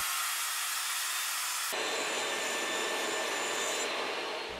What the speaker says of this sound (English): Now it's time to cut the brick panels for the outside walls as well as the inside wall above the infinity mirror.